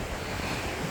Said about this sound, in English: I got a pretty steady wind